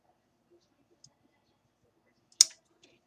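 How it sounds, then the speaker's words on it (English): Scissors cutting off fabric for a shabby pillow kit: a single sharp snip in an otherwise near-silent moment, preceded by a couple of faint clicks. "I'm going to cut this off."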